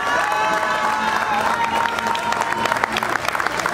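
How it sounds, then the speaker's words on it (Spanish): Crowd at a charro queen presentation event applauding steadily throughout, with some cheering mixed into the dense clapping. "Miren, primero que nada quiero que le brindemos un fuerte aplauso a Magali, quien actualmente es nuestra reina"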